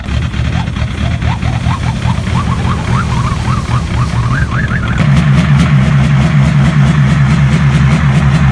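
A 1.9-liter turbo diesel cold-starts in freezing winter through a straight pipe, struggling with rough chugging and rising whistles before settling into a louder, steady rumbling idle with rhythmic clatter.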